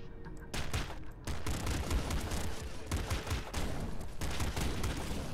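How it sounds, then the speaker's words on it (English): Rapid bursts of gunfire from the triple pop gun in Nuclear Throne, each shot firing three bullets, pile into a loud, continuous volley after a short opening pop. "It shoots three bullets. It's a triple pop gun."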